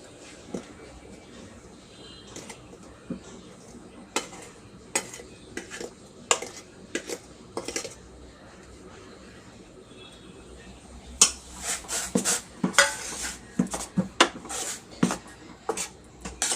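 Flour stirred into boiling water and milk in a pot for traditional Malvani steamed nevrya dough, with irregular scraping and clinking of a spoon against the pot, sparse at first and then busier and louder near the end.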